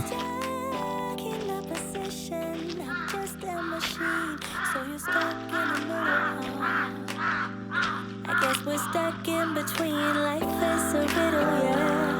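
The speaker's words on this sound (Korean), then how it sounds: "까마귀들이 많이 사는 거 까마귀 소리 원없이 들면" Several crows on Geoje Island, South Korea, caw repeatedly in quick, irregular bursts on a forest trail, some near and some farther off, over a steady humming tone.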